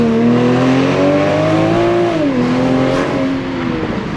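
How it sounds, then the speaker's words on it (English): A Toyota GR Supra, a rear-wheel-drive sports car, is driven hard, its engine droning loud and steady with pitch climbing, dipping at a shift, then rising again, heard up close from inside. "let's really drive this thing."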